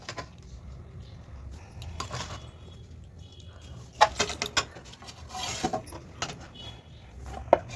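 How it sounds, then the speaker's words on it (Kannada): A ladle mixes hot rice with gojju in a pot, giving soft scraping and occasional sharp metallic taps against the pot, close but quiet. "ಬಿಸಿ ಐತೆ, ಅದರಿಂದ ನಾನು ಸೌಟಲ್ಲೇ ಕಲಿಸ್ತೀನಿ"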